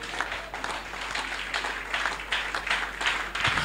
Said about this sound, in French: Acclame très fort pour la gloire du Seigneur